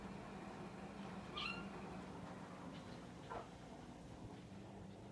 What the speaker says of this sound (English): I think it was just the cat making the noise.